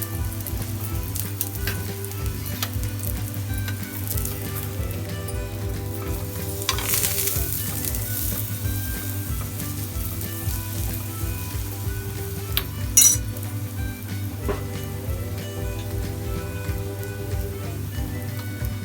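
A corn-flour (makki atta) aloo and onion paratha sizzles on a griddle with a steady, crackling fry, dense with spitting bubbles, and a few faint clinks of a utensil poke through near the middle.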